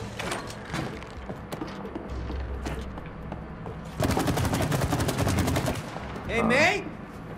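Rapid game gunfire in It Takes Two, a sustained burst of dense, evenly spaced shots in the middle, with busy game sounds and scattered talk before and a brief whooshing effect after.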